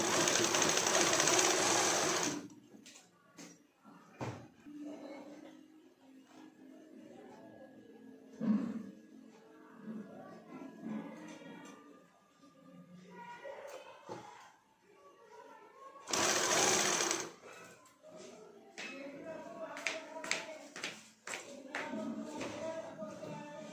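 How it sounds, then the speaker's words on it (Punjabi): Sewing machine stitching a pocket onto a kurti, with loud bursts of rapid mechanical stitching at the start and again midway, and handling clatter and fabric movement in the quieter stretch between. "ਨਿਸ਼ਾਨ ਦੇ ਉੱਪਰ ਉੱਪਰ ਆਪਾਂ ਪੋਕਿਟ ਰੱਖਾਂਗੇ ਔਰ ਸਿਲਾਈ ਲਗਾਉਂਦੇ ਜਾਵਾਂਗੇ"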